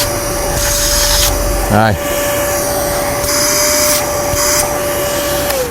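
A Karcher SE3-18 cordless spray extractor runs its suction at close range, a steady loud whine broken by a brief gurgling pitch sweep partway through, with a short spoken word over it.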